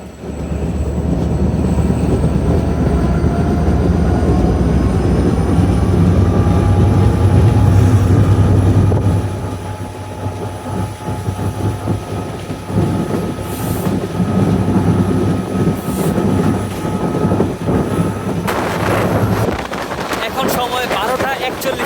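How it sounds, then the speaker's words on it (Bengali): The Intercity Ruposhi Bangla Express passes through Maheshpur station, heard from on board as a loud, continuous rumble of wheels and carriage, with a high whine running through it and brief clanks. "আমাদের ট্রেনটি এখন Maheshpur railway station through pass করে যাচ্ছে"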